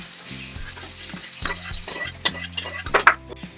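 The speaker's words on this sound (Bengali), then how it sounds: "তেল গরম হয়ে গেছে, এবার ডিমগুলো ভেজে নিচ্ছি" Eggs fry in hot oil with turmeric in a kadai, sizzling under a run of quick metal spatula scrapes and clinks that grow sharper and more frequent toward the end.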